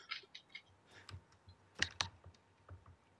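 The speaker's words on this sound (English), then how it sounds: "Wow, your right-click is really loud." Mouse right-clicks tap out during a multiplayer Minecraft SkyBlock game, faint sharp clicks scattered irregularly with a couple of louder paired clicks near the middle, alone against quiet background.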